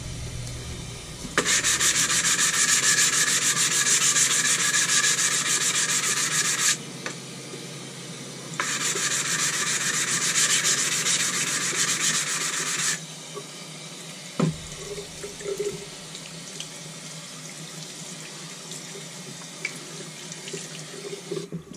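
A Norton Crystolon sharpening stone is rubbed back and forth on a Harbor Freight diamond block with water at a sink. The gritty scrubbing is loud and steady in two long bursts, then stops, leaving quiet handling noises.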